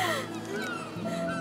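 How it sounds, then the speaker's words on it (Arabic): Seagulls call out in harsh, squawking cries, several overlapping squeals over a low steady background hum. "صوت النوارس."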